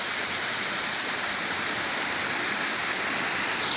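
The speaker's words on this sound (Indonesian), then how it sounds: "ini air terjun ini mungkin dari saluran kali dari hutan" Small waterfall in a forest river, where a channel of water drops into the stream, giving a steady, loud hiss of rushing water that stays even throughout with no voices.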